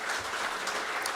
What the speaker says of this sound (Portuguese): Aplauso a todos neste momento.